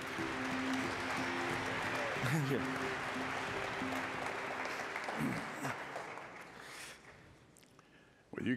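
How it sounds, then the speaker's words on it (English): Audience applause at the Aspen Ideas Festival, continuous crowd clapping that slowly fades as speakers take the stage, with voices audible beneath it. "You guys get all the applause."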